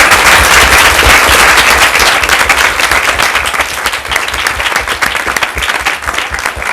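An audience applauds after a law lecture at the Duke Law Leadership Experience 2007: dense, sustained clapping from a large crowd, loud at first and easing slightly toward the end, with no voices over it.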